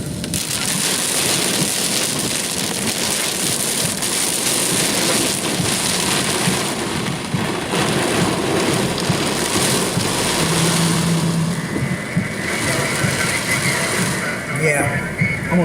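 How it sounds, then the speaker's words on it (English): Heavy rain pours down steadily during a tornado-warned storm in Western Pennsylvania, heard from inside a car on the highway, a loud continuous wash with wind noise throughout and occasional talk over it. "The rain's coming down."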